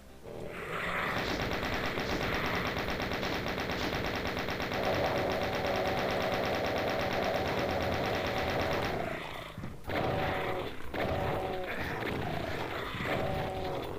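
A chaingun fires in the Doom video game: a steady, dense rapid-fire rattle that keeps going almost without a break and sits under a continuous bed of game sound. Short tonal effects come in near the end.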